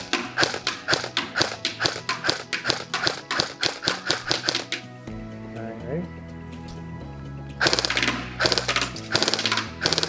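Airsoft rifle, a KWA or G&G gun, firing a rapid string of sharp cracks in steady rhythm, then a pause with talk, then another fast burst of shots, loud and close.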